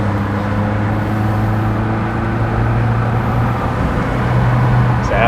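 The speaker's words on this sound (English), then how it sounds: "Go ahead and give her some throttle." A car engine idles and then takes throttle, producing a steady low droning hum with a slight rise in pitch toward the end, close and continuous with no talking.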